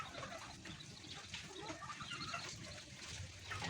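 A hen clucks softly and repeatedly beside her clutch of eggs in a breeder's coop on a rainy day, the faint calls sitting within a low, steady background hiss.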